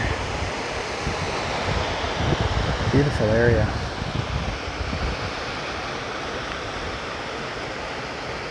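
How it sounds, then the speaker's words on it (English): Steady broadband rush of a creek flowing along a Pacific Crest Trail stretch near Cassel and Fall River Road, continuous and fairly close, with a brief spoken remark over the water partway through. "So this is really a beautiful creek."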